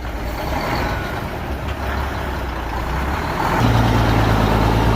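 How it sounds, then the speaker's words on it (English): Dump truck delivering a load of dirt for a lot pad, its engine rumbling steadily and growing louder with a deep low drone, close and continuous without talk. "Here's the second load of dirt, so they're going to drop this right about there"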